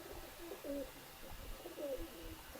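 Male pigeons coo softly, two low throaty rounds of cooing over faint background hum.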